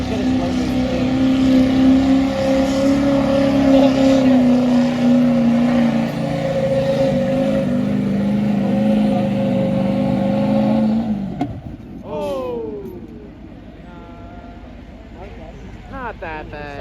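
A pulling truck at the 2024 Wainfleet Fall Fair truck and tractor pull roars loudly and steadily for about eleven seconds, then the engine note drops away abruptly, leaving quieter, fluttering mechanical sounds and the hum of the fairground.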